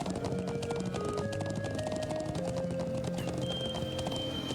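Horse hooves clip-clop steadily at a brisk riding pace in the Trails of Cold Steel video game, with an occasional whinny and tonal game music underneath.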